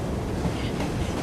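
Steady rumbling train in Assassin's Creed Syndicate, a continuous broadband roll with faint clickety-clack of railroad cars, heard up close and alone.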